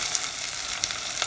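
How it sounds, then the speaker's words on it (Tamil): Sliced onions sizzle in hot oil in a pan for a soya meat curry, a dense, steady crackling fry heard up close without talk. "வட்டின வெங்காயத்தை போடுங்க."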